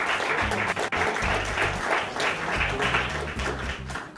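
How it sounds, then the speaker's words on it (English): An audience at a Bollywood entertainment event breaks into loud, dense applause, a sustained crowd of many hands clapping with no voices on top. "Round of applause,"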